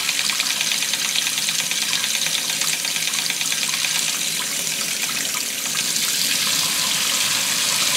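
Water from a sink tap pours steadily over a waterproof PC fan used as a turbine, making a loud, continuous splashing rush with a faint whir underneath.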